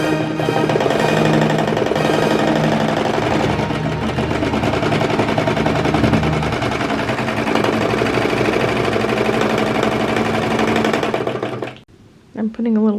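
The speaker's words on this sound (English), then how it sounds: "Let's serge it together first." A serger stitching a knit neckband onto a child's sweatshirt runs loud and continuous with a rapid mechanical chatter, then stops briefly near the end before starting again.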